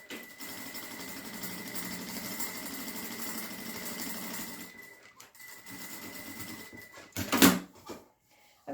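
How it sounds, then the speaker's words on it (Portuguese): Sewing machine topstitching the upper edge of a bag pocket, a faint steady hum running about five seconds, a brief pause, another short stretch, then a sharp knock near the end. "nós vamos fazer uma costurinha de pesponto"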